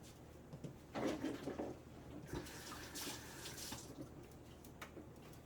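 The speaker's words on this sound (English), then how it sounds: "let me wash my hands" Tap water runs into a kitchen sink while hands are washed, a steady splashing wash with brief louder gushes, close by and without talk.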